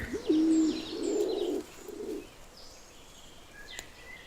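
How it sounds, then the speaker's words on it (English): Laurel pigeon in a Canary Islands laurel forest, giving a few low, close, hoarse coos in quick succession that trail off, followed by quiet forest ambience with a faint distant call. "The laurel pigeon."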